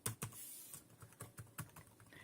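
Keys clatter on an HP Spectre x360 (Early 2017) laptop keyboard in a run of about eight distinct, fairly quiet keystrokes at an uneven pace, with no voice over them.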